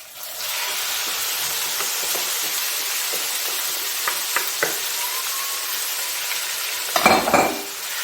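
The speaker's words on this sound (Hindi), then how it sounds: "अब हम लोग इसमें मैरिनेटेड चिकन डाल देंगे पूरा।" Marinated chicken fries in a browned paste for spicy chicken spaghetti, producing a loud, steady sizzling hiss with scattered stirring clicks and a burst of scraping near the end.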